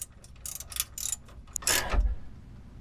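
Bolts being screwed in to fix a camera bracket in place on an off-road vehicle, a few quick ratcheting clicks followed by a longer grinding turn and a soft thud, close with no talk.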